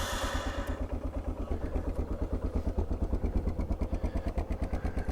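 A 1988 Yamaha Ténéré motorcycle idles unrevved on a fresh start, its single engine thumping in a fast, even, steady pulse close by with no voices.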